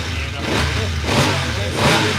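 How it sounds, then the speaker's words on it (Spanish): A VOGE 900 DSX motorcycle engine runs loud and close, its revs swelling in three broad waves over a steady low rumble, with no talking. "Vamos a escuchar ese motor"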